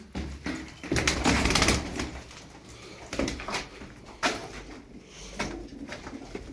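A Şekeri pigeon, a Turkish tumbler breed with a dewlap, handled before release, with soft low cooing amid bursts of wing flutter and handling noise, close and intermittent.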